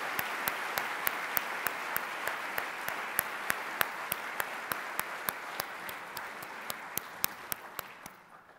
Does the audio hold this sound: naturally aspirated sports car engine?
no